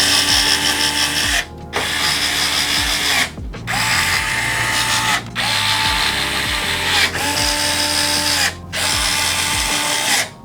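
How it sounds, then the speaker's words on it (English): An electric screwdriver drives screws into a white PC case, whirring in about six repeated bursts, each rising in pitch as the screw seats and then stopping for a short gap before the next. "Let's get the electric screwdriver for this to make it go by a little bit faster."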